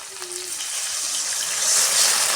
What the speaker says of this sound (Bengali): মশলা আমি ভালো করে ভেজে নিয়েছি আদার কাঁচা গন্ধ চলে গেছে এখন আমি দিয়ে দেবো একটু জল